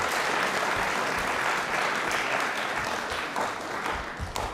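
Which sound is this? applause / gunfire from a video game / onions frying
applause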